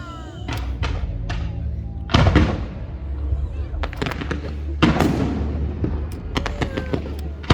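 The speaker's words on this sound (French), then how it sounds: "Ça passe un autre pétard." A sharp firecracker bang goes off nearby at a fireworks display in Pornic, France, with several more pops and thumps scattered around it, and people chatting and moving outdoors.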